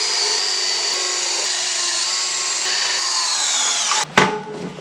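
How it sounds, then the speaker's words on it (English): A power drill whines steadily for about four seconds while boring through rocker panel sheet metal backed by a piece of wood, then stops with a short clatter, with no voices. "drill holes along the bottom edge every couple inches"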